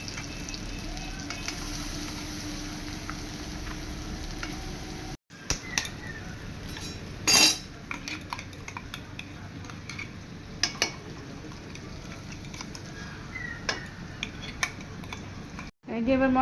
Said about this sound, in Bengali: এই যে এবার মশলাগুলো একটু কষাবো